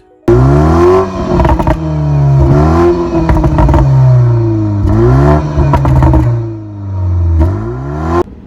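A BMW 3 Series sedan with twin rear exhausts revving repeatedly, loud close engine roars climbing and falling in several bursts with crackles between, no talk.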